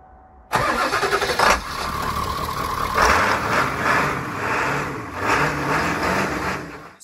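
A van's engine, just fitted with a new starter motor, cranks briefly and catches, then idles with a rough, uneven rumble that rises and falls a few times, close by and with no talking.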